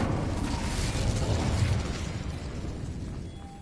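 Incendio fire spell cast in Hogwarts Legacy, a loud roaring whoosh of flame that rumbles steadily, then slowly fades, with no speech over it.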